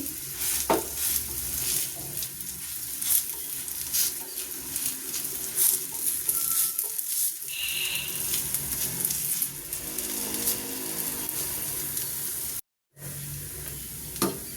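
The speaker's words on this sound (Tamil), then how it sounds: "எனக்கு வந்து இந்த தவா ஈஸியாக இருக்கிறதுனால இந்த தவாவில் சுடுறேன்" Dough cooks on an oiled tawa with a steady sizzle and crackle that runs through nearly the whole stretch. Faint scraping and patter sit in the mix and there is a brief gap near the end.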